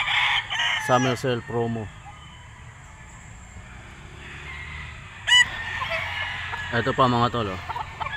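A Sweater bull stag gamefowl crows loudly and repeatedly at a game farm, with clucking fowl nearby and someone talking in between the calls.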